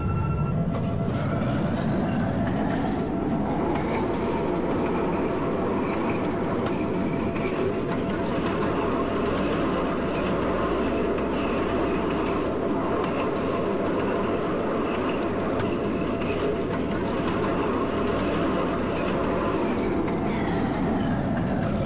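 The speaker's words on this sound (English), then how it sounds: "This is a red line train to 95th." A CTA Red Line train runs steadily in the Roblox CTA Train Simulator game, a continuous loud rail rumble with motor whine and faint rhythmic wheel clatter, fading in and out at the ends.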